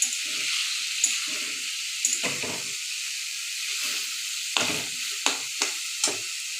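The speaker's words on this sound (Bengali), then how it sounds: "ভালো করে নেড়ে ছেড়ে রান্না করা হচ্ছে" Vegetables stir-fry in a pan for lunch with a constant bright sizzle and hiss. Several louder scraping strokes of stirring cut through at intervals, close up and without talk.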